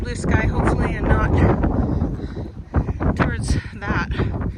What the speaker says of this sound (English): Very windy and chilly.